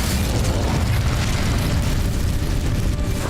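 Incendio fire spell cast in the Hogwarts Legacy video game, a dense, sustained whooshing burst of flame with heavy low rumble, loud and continuous throughout.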